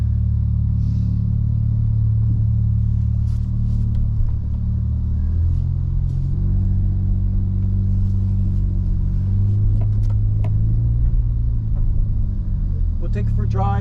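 A 2012 Honda Civic with a custom exhaust rumbles steadily from inside the cabin, a deep, loud exhaust drone with occasional revs, while people talk over it.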